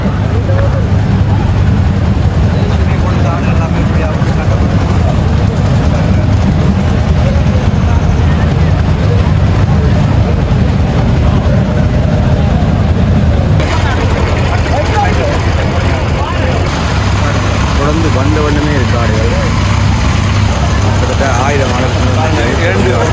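Many tractor engines rumble steadily and loudly at idle, a low continuous drone that never lets up, with background voices mixed in.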